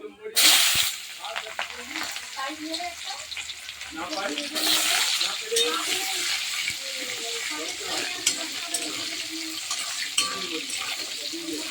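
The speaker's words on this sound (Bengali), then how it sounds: "তেলটা খুব গরম হয়ে গেছে, পেঁয়াজগুলো দিয়ে দিচ্ছি।" Sliced onions hit very hot oil already tempered with black cumin, setting off a loud, steady sizzle that flares at the start and again midway, with spoon-stirring scrapes and clinks throughout.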